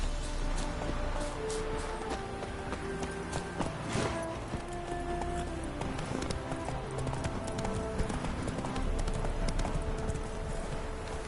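Roach gallops in The Witcher 3, a fast clatter of hooves running continuously over a dense bed of game music and effects, moderately loud and close.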